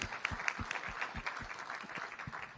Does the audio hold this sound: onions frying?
no